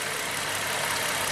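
A GM V6 engine idling roughly with its bank 2 exhaust cam fully retarded, a steady broadband rumble heard up close with no voices.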